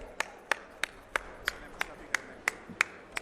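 Sparse welcoming applause at an inauguration ceremony for national highway projects, heard as about ten sharp, evenly spaced claps that sound like a single pair of hands, moderately close over a faint room background.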